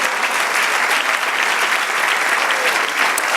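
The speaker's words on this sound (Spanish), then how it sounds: "Dale un aplauso, Señor." A church congregation applauds, with dense, continuous clapping from many hands. A few scattered voices sound faintly within the clapping.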